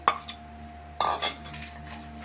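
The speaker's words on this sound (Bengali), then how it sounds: "এইবারে এগুলো এটা সুন্দর করে ছেঁকে নিতে হবে।" A spoon presses mustard paste through a metal sieve, making two sharp clinks and scrapes about a second apart, close and clear over a quiet steady hum.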